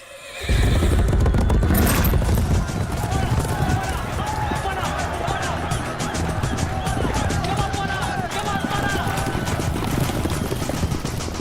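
Racehorses gallop in a horse race in a Hindi action film, a loud continuous rumble of hooves with a whinny near the start and crowd noise and speech layered over it.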